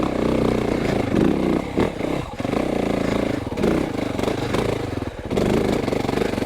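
A Yamaha YZ450FX dirt bike labours up a steep technical climb in second gear, its engine droning loud and close with uneven throttle surges and brief dips as it bogs on the slope.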